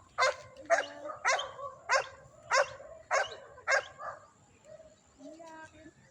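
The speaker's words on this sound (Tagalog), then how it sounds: "Aming aso." A dog barks about eight times in a steady series, fairly close, followed by a few softer whines and yips.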